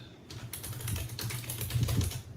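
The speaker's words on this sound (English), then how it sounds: "Just typing that. angry typing" Fast, forceful typing on a computer keyboard, a dense run of close, loud key clacks with no pauses, sounding hurried and agitated.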